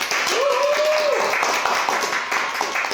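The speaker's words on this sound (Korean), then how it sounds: "박수 한번 부탁드릴게요" An audience applauding two invited guests at a talk about interview preparation, steady clapping from a small crowd lasting a few seconds, with a brief whoop or voice over it early on.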